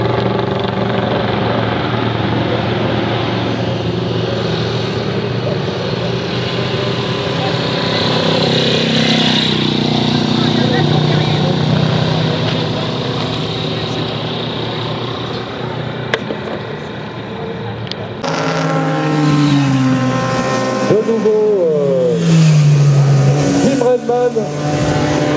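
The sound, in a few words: 1960s Honda motorcycle engine running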